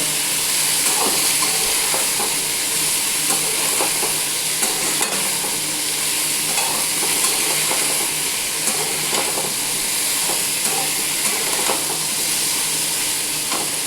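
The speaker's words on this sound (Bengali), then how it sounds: "এবার আবারও বেশ কিছুটা একটু ভাজবো" Pumpkin and chickpeas fry loudly in a pan, a constant dense sizzle with repeated scraping stirs of a spatula, close and without speech.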